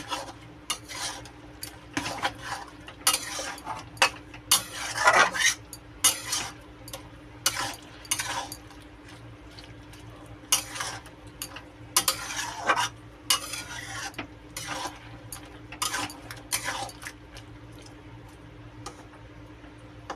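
A spatula stirs colocasia leaves with a hilsa fish head in a pan, repeated close scraping strokes in an irregular rhythm over a faint low sizzle.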